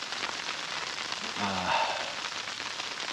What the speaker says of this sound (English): the rain's come on